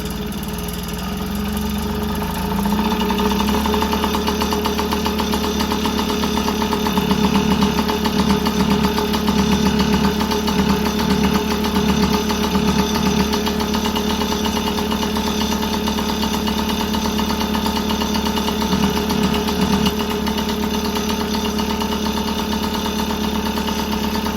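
A Yamaha PW50 dirt bike engine idles steadily and close by, its small buzzy putter holding an even rhythm throughout with slight shifts as the idle is raised.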